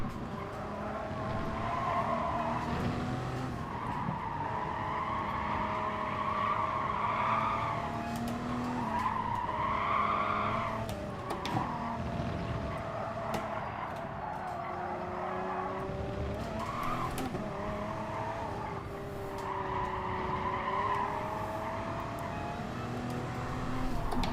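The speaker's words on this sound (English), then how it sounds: "a little bit of grass driving" A race car in GT Sport skids and slides across grass, with a steady engine drone and continuous tire scrubbing throughout, rising and falling in waves without pause.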